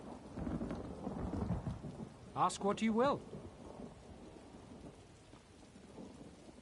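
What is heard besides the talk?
rain and thunderstorm in a video game (The Elder Scrolls Online)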